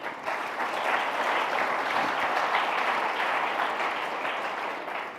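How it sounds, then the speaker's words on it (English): An audience at an Economist debate claps in sustained, dense applause that holds steady for several seconds before tapering slightly at the end, with no talking over it. "So give them a round of applause."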